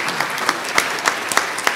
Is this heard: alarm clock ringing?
no